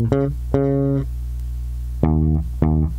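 Bass guitar playing the opening bar of Tame Impala's Lost in Yesterday: four clean, plucked notes in two pairs separated by a pause, each note ringing briefly, played alone and close.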